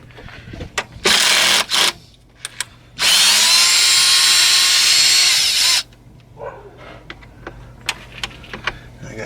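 Pneumatic impact wrench working under a car during an oil change: two short bursts, then a loud sustained run of about three seconds, followed by scattered clicks and clanks of tools nearby.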